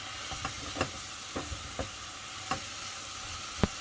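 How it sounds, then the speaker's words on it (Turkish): Light scraping and clinking of a utensil stirring celery stalks and leaves sautéing in a pot, with a faint sizzle underneath; a handful of soft, irregular knocks spread across the moment. "kereviz sap ve yapraklarımı ekleyip en az şöyle 7-8 dakika iyice soteliyorum"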